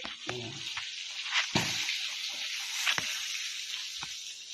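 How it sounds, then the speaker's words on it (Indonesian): Chicken wings fry in hot oil in a simple village home kitchen, giving a steady close sizzle with a few brief clatters of utensils. "goreng sayap pitik"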